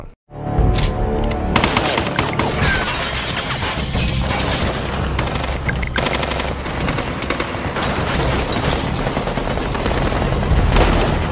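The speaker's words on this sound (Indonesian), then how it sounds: "Seketika Rick semakin tak terkendali dan semakin kuat melepaskan tembakan" Sustained gunfire from The Walking Dead series, heavy rapid bursts of shots with shattering and mechanical clatter, loud and dense throughout with a few louder booms.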